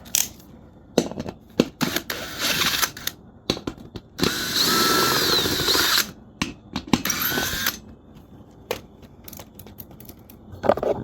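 A power drill or driver removes the seat bolts from a Weslo Cardio Glide exercise machine, with a loud two-second whir followed by ratcheting clicks and clanks of hardware nearby, no voices.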